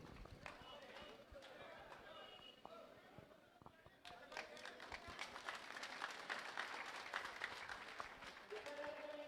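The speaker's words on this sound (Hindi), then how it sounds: "राजस्थानी परंपरा के अनुसार जोरदार तालियों से स्वागत।" A crowd at a large political rally in Shridungargarh, Rajasthan applauds in welcome, scattered claps building into steadier, louder applause with chatter underneath, heard from a distance and fairly faint overall.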